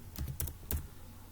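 A few close, crisp keystrokes on a computer keyboard, three or four quick taps in a short burst, with no talking.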